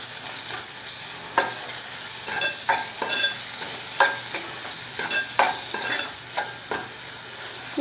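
Onions with turmeric and ginger-garlic paste are stirred in a pan for egg curry, a soft frying hiss under a series of irregular spoon scrapes and knocks against the pan, close and without voices.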